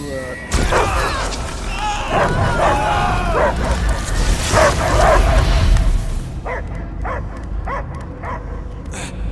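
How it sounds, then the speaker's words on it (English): A dog barks and yips amid loud, dense audio with voices from the video game Guardians of the Galaxy; several sharp barks stand out more clearly near the end. "I hear only barking."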